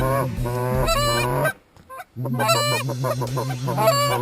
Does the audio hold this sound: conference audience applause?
no